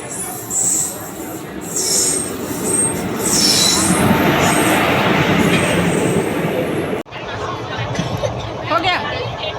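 A train pulling into a station in Bilaspur, a loud rumbling roll with screeching wheel squeals high above it, followed after an abrupt cut by station clatter and a chattering crowd with nearby voices.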